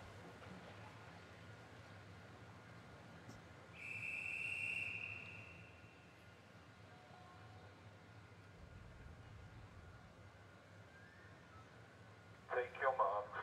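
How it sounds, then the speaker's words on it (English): A referee's whistle sounds once at the start of a women's 100 m backstroke S11 heat at a Paralympic swimming pool, a single steady blast over a quiet hall murmur, with a brief electronic beep following near the end. "The whistle sounds for all quiet at the start for the women's 100 metres backstroke"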